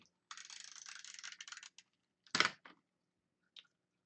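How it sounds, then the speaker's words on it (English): A craft tape runner is drawn along a ribbon for a bikini-themed card: a close, quiet ratcheting rasp lasting over a second, then a couple of sharp taps and clicks, with near-silence between. "take your regular tape runner and run it along your ribbon"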